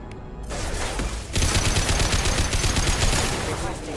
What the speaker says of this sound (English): It's the punchiest goddamn gun in the history of video game guns